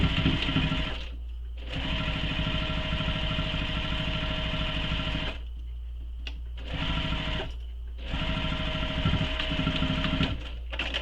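A sewing machine stitches a fabric shoulder bag closed, running in three steady motorized bursts separated by short pauses, loud and close with no voices.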